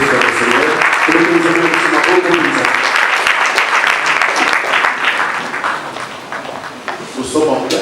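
Congregation clapping and cheering in praise of the Lord at a radio church service, a dense sustained wash of applause with voices and singing mixed in, staying loud before thinning slightly toward the end.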